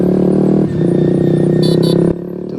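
A KTM RC motorcycle fitted with an Akrapovič exhaust holds a loud, close, steady idle-to-mid rev drone with a brief dip, then drops to a lower idle near the end.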